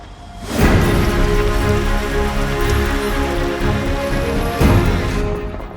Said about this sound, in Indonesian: Meski hujan masih terasa